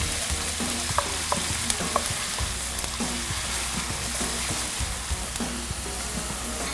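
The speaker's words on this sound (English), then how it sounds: "When the oil is hot, I add in the onions. Fry this for about a minute." Onions frying in hot oil in a pan, giving a steady close sizzle with occasional stirring scrapes and taps throughout, no voices.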